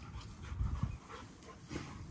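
Growing young dogs pant and whimper softly close by, a quiet breathy huffing with a couple of louder low bursts, no talk.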